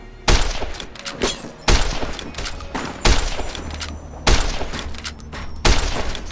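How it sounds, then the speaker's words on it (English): Rifle shots fired while sniping in the video game Fallout: New Vegas: five loud, sharp cracks about a second apart, each with a short rumbling tail. "There they are, and let's take a shot."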